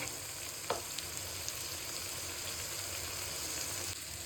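Spices and masala sizzle and fry in a pan while being stirred, a faint steady crackle with an occasional scrape of the spoon, no talking.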